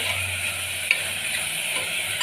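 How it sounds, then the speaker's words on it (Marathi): Chopped ridge gourd sautéing in hot oil, giving a steady close sizzle with a faint scrape of stirring partway through, no voices. "आता याला छान असं तेलावर परतून घ्यायचं एक दोन मिनिट फक्त"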